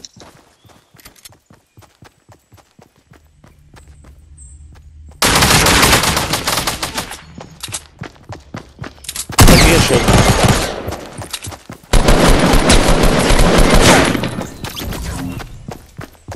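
Gunfire in the video game Fortnite, heavy bursts of rapid automatic shots in several long loud stretches, broken by quieter gaps with scattered footsteps and clicks.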